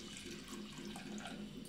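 Tap water runs steadily into a sink while homemade butter is washed before being made into ghee. The flow is soft and continuous, a faint wash of splashing with no voices.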